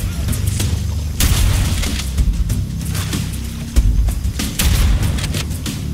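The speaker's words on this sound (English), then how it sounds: "Why am I hearing explosions?" Repeated booming explosions and bursts of gunfire in the video game Halo, over a constant low rumble, irregularly spaced and fairly loud throughout.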